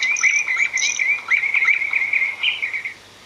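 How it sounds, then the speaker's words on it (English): Loud outdoor birdsong: a bright, rapid warbling chirp trill runs continuously for about three seconds, close and clear with no voices, before cutting off into quiet background. "The birds were singing very loudly outside."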